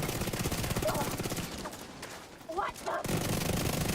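Automated turret gunfire in a video game, steady rapid shooting with a short lull near the end before the fire resumes, heard under faint background sound.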